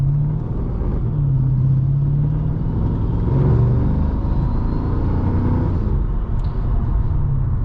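A 2006 Mercedes-Benz E55 AMG W211 with its supercharged engine pulls hard under acceleration, a deep steady rumble and drone heard from inside the cabin, loud and continuous with a faint whine on top.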